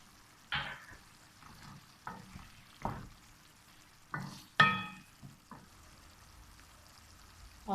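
Chopped green chillies drop into a hot pan of khichdi, giving a few soft sizzles and stirring clinks spaced across a quiet kitchen background, each burst short and fading quickly.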